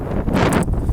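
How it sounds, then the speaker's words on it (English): Strong wind gusting across a hiking trail in New England, a steady roaring rush buffeting the microphone throughout, loud and close with no voices. "That wind is ripping up here."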